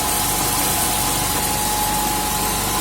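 A homemade grain crusher driven by a 2.5 kW, 700 rpm electric motor through a large pulley runs steadily, giving a continuous loud mechanical hum and whir with no pauses.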